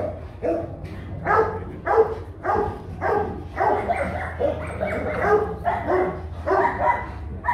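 Hmong dogs, one of them a young pup, barking repeatedly in rapid bursts nearby, loud and sharp in an irregular rhythm, with a low background hum.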